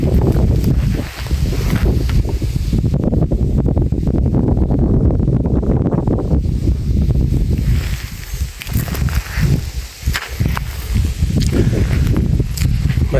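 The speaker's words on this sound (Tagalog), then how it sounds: "Masyadong malakas ang hangin dito" Strong mountain wind buffets the microphone in a steady, loud roar with gusty surges throughout, recorded outdoors on a mountainside near a squash planting.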